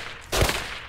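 A single close gunshot in the survival game Rust, one sharp burst with a short tail, standing alone.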